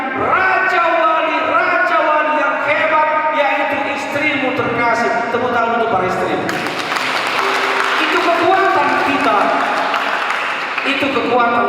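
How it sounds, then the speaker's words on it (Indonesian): At a church Christmas celebration, a loud voice speaks over a sound system, then the congregation breaks into a broad burst of clapping that fills the second half. "Tepuk tangan untuk para istri."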